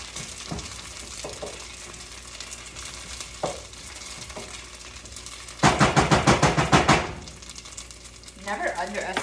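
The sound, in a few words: stirring onions and garlic in a pan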